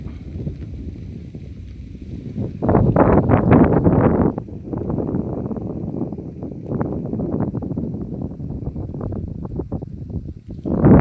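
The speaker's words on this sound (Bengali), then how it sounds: "এত হাওয়া দিচ্ছে মানে কি বলবো আওয়াজ হচ্ছে হাওয়ার প্রচণ্ড" Strong wind gusting outdoors at Bhadreswar, roaring loudly into the microphone in heavy, uneven bursts that rise and fall throughout, with no one speaking.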